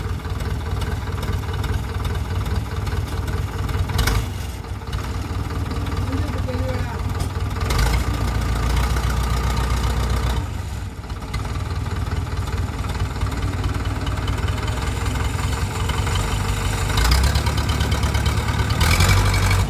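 A JCB backhoe's diesel engine running, a steady low chugging idle with knocking, heard throughout with a few short dips and bumps, as people talk over it.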